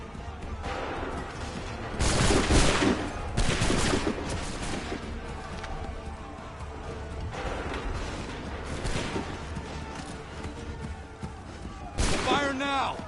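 Musket volleys crack out in a battle scene from the video game Assassin's Creed III, with broadband bursts around two, four and twelve seconds amid continuous combat noise and shouted commands.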